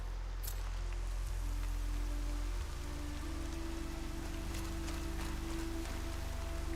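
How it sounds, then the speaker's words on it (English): Rain falling in a video game, a steady close patter of drops on a surface over a constant low rumble and hum, with no voices. "Did it rain when I first played this game? I don't think I ever remember seeing it rain."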